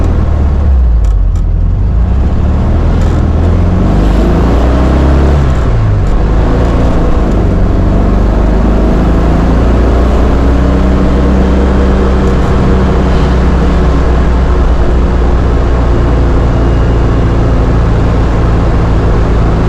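A 1972 Volkswagen Karmann Ghia's engine runs loud and close, rising briefly at first, then holding a steady, droning revved pitch with no one talking.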